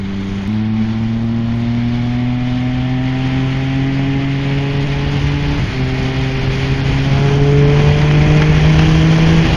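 A Triumph Speed Triple 1200 RS with a Zard exhaust revs hard at full throttle and climbs steadily in pitch, with a brief dip midway before pulling higher again, close and unbroken.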